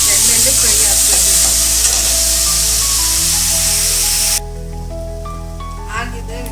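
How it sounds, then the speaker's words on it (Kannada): Tamarind fries in hot oil for bisi bele bath, giving a loud, dense sizzle with stirring scrapes that cuts off abruptly partway through. A quieter tonal background continues afterward. "ಸ್ವಲ್ಪ ಹುಳಿ ಹಾಕಿ ಒಂದು 2-3 ನಿಮಿಷ ಇದು ಎಣ್ಣೆಯಲ್ಲಿ ಫ್ರೈ ಹಾಕಬೇಕು."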